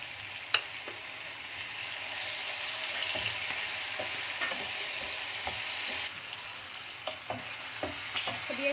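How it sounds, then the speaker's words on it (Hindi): Chicken masala macaroni frying in a pan, Indian style, gives a steady close sizzle throughout with occasional light clinks and scrapes of stirring, no talk. "अब ये अच्छे से फ्राई हो रहा है।"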